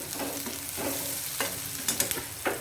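Chopped ridge gourd sautéing in a pan for chutney, a close sizzle broken by several spoon stirs and scrapes in an uneven rhythm, with no talking.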